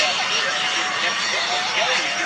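A kit-built airplane from Vans flies low over an air show, its engine a steady, loud drone filling the whole stretch with little change in level.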